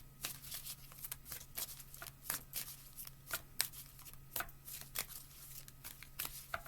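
Tarot cards are shuffled close up, making soft, quick riffling and flicking sounds in an irregular rhythm over a faint, steady background hum.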